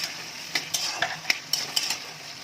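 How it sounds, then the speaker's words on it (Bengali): Onion and capsicum frying in hot oil in a pan, with a low steady sizzle broken by a series of sharp, close scrapes and clinks of a spoon stirring every half second or so. "দেখতেই পাচ্ছ পেঁয়াজের ক্যাপসিকামটা কিন্তু আমি তেলের উপর দিয়ে দিলাম। এবার এটা একটু ভাজা হোক"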